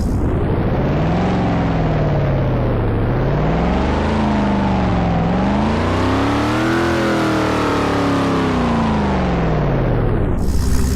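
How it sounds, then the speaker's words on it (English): A Dodge Viper ACR engine in the Driving Empire racing game revs loudly and continuously, its pitch climbing and dipping in repeated waves before cutting off abruptly. "If I rev up this vehicle"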